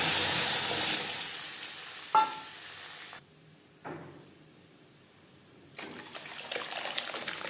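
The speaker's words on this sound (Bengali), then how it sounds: "সামান্য পরিমাণে গোটা জিরে জিরে শুকনো লঙ্কা তেজপাতা ভেজে নেওয়ার পর দিয়ে দেবো সেদ্ধ করে রাখার ডাল" Boiled moong dal tipped into a pan of fried whole cumin, dried chilli and bay leaf gives a burst of sizzling and splashing that drops away, then short stirring scrapes and a renewed frying hiss, with no talk.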